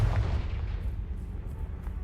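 Confringo blasting spell going off in Hogwarts Legacy, a deep, rumbling explosion with heavy booming low end that rolls on steadily for the whole moment, loud and close.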